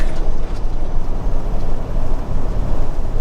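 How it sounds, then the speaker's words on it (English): A semi truck's engine brake rumbles while decelerating on the highway, a loud, continuous low throaty drone with pulsing texture and road noise, no voices heard. "Engine brake."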